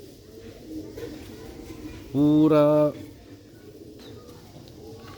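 A pigeon in a home loft gives one close, clear coo lasting under a second, set against low background noise, with a person speaking briefly nearby.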